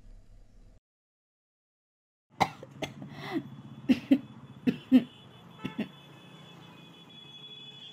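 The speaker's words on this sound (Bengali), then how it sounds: "সত্যি এই কাশিটা একদম ভালো শোনাচ্ছে না রে" A series of coughs, about eight or nine separate bursts, some sharp and some softer, comes after a short silence in a quiet indoor setting and sounds like a person with a cold.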